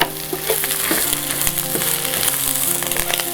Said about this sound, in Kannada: ಹಸಿ ವಾಸನೆ ಎಲ್ಲ ಹೋಗಬೇಕು ಅಲ್ಲಿ ತನಕ ಫ್ರೈ ಮಾಡಬೇಕು